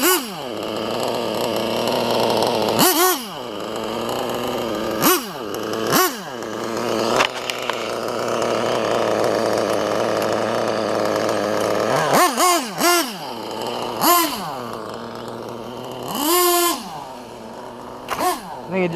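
Hobao MacStar .28 nitro RC engine with a Werks carburetor buzzing at high pitch, repeatedly revving up and dropping back in rising and falling wails, loud and close, with a steadier sustained run in the middle.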